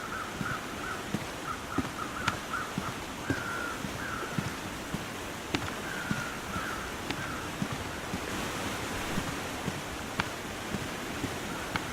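Ocean surf in the video game The Long Dark washes in a steady, breezy roar that fills the whole stretch, with faint crow-like caws and small ticks scattered over it.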